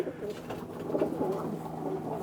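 A racing pigeon hen coos close by, a soft, throaty, rolling call sustained under a low steady background hum, with no one talking.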